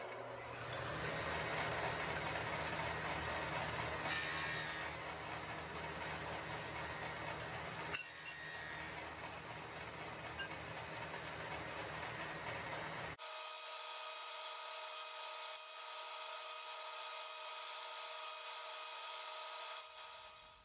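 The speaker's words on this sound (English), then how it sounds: "I've set my dado blade at 1/2 inch wide by 3/16 inch high." A table saw with a dado blade cuts wood slats for a beehive rack. Its loud, steady whirring drone carries on throughout, and the tone shifts partway through as the cut changes.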